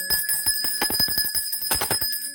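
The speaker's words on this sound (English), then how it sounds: "let me hit the bell" A bell rings rapidly with a quick run of bright, metallic strikes, close and clear, sounding alone.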